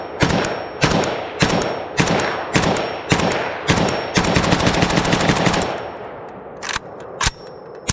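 AKML rifle fired in darkness through a flash hider: about nine loud, sharp gunshots in a steady rhythm, then a brief rapid burst, followed by two more separate shots after a short pause.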